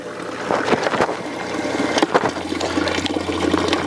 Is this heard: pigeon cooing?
no